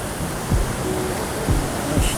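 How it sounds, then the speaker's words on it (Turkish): The Manavgat waterfall gives a steady, loud rush of falling water that fills the clip, constant and broadband, with faint low thumps underneath. "Aa şelaleye gelmişiz"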